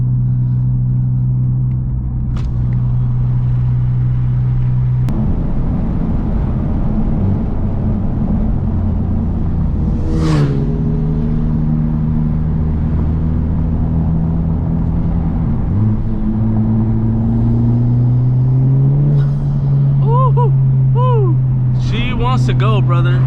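A tuned 2017 Honda Civic Type-R driving a canyon road, its engine droning steadily inside the cabin with pitch rising and falling through shifts and a louder rev near the end, under road rumble.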